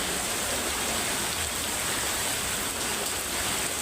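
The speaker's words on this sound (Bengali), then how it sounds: "প্রচুর বৃষ্টি হইতেছে। এখনও বৃষ্টি পড়তেছে।" Heavy rain falling, a dense, steady hiss of broadband noise without a break, loud and close.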